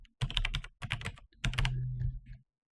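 Computer keyboard typing while working in Nuke compositing software: a few quick bursts of key presses separated by short pauses, close and moderately loud, with no talking.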